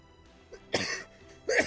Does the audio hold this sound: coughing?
yes